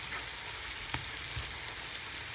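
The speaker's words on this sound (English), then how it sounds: "So the ginger garlic paste has sauteed well." Ginger garlic paste sautéing with onions in a pan for mutton biryani gives a steady, soft sizzle and crackle throughout, with a few faint stirring knocks.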